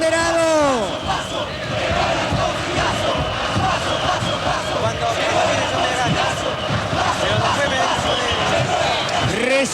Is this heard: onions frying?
no